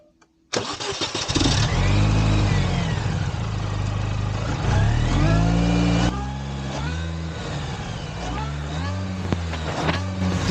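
A Mini's Tritec engine, a single overhead cam 16-valve unit with electronic throttle control and over 200,000 km on it, starts up and runs loud and steady while driving, rising and falling in pitch as it revs through gears.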